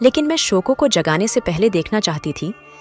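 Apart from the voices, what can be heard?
No everyday noises stand out.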